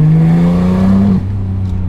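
A Porsche 911 GT3 Touring with no particle filter sends out a loud, steady engine exhaust drone that climbs slightly, then drops sharply to a lower idle-like tone.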